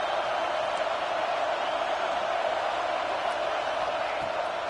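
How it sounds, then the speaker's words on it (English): A large football stadium crowd at an Arizona State game roars to back its defense, a broad, sustained din that stays loud and unbroken throughout. "Listen to this crowd just shaking the girders of this place, trying to help their defense."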